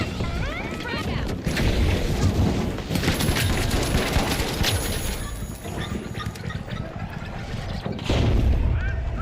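Loud explosions and gunfire in the shooter game The Finals, dense booms and crackling blasts throughout, with a heavy burst near the end, under a commentator's voice.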